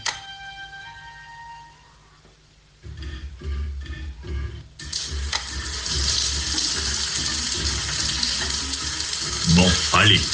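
Water runs steadily in a shower, a broad hiss that grows louder and fuller partway through, with muffled thumps and movement beneath it and brief vocal sounds near the end.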